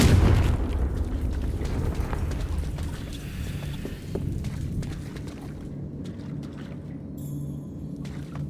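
Confringo blasting curse in Hogwarts Legacy going off as a loud, rumbling explosion at the start, then a rolling, crackling tail with scattered debris-like clatters that slowly fade.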